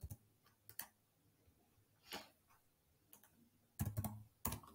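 Keys tapped on a computer keyboard in short, quiet bursts of clicks with gaps between, ending in a quicker flurry of keystrokes, close and soft with no voice over them.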